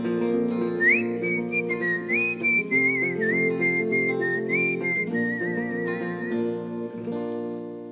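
A person whistles a wavering, sustained melody in a folk song, close and clear over a steady bed of accompanying instruments, before the tune drops away near the end.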